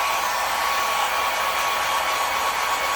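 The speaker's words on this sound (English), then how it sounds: "I'm just going to be using my little hair blower, and I'm going to be using it on low." A small hair dryer set on low blows steadily across wet alcohol ink on a cradle board, giving an unbroken, close airy whir with no talk over it.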